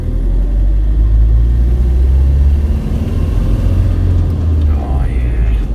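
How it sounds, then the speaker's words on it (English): An Iveco Daily campervan's engine and differential drone loudly from inside the cab while driving, a constant low rumble and whine, with a voice briefly heard over it. "you're hearing all the noises from the engine and the differential as well"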